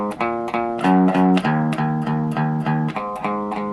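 A distorted electric guitar plays a riff, a steady run of chugging picked notes in even rhythm with a few lower accented ones, close, loud and alone.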